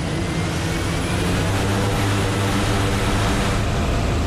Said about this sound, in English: As the plane lifted off, the beauty of the Naknek River was on full display.